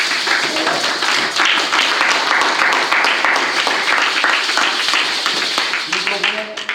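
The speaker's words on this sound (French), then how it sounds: "L'Église est disposée à joindre une offrande d'acclamation." A church congregation applauds in a sustained, dense burst of many hands clapping together. Voices call out under the clapping, and the applause thins toward the end.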